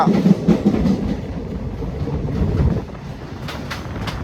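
A Vanchinad Express commuter train runs on Kerala rails out of Kottayam, giving a close, steady rumble of wheels and carriage with faint clickety-clack, heavier at the start and easing slightly near the end, with no voices.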